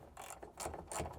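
Ratcheting wrench tightening the roof rack bolts on a Jeep JL hardtop, a few short bursts of rapid clicking, close and distinct.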